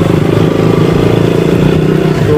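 A motorbike ridden on a rough road between Baksa and Samrang near the Bhutan border gives a loud, steady engine drone with rattling clatter throughout.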